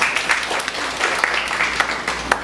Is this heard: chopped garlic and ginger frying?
no